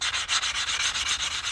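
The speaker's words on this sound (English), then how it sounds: "We're gonna sand this cut edge real quick." Rapid back-and-forth sanding on the cut edge of a 1988 quarter being made into a coin ring, about a dozen even rasping strokes, close and loud, with no voices.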